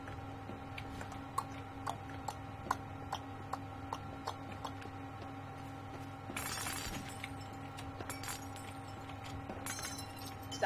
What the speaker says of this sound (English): Stop breaking my glass.